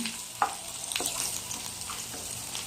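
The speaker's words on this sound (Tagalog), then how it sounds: "Guys, nalagay ko na ang bawang" Garlic sizzles in hot oil in a pan, cooking for kaldereta ribs, with a continuous, moderately quiet frying hiss. Faint stirring clicks sound close by, and no voices are present.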